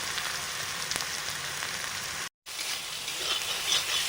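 Ginger paste and tomatoes fry in a pan with a steady close crackling sizzle, continuous apart from a brief cut partway through.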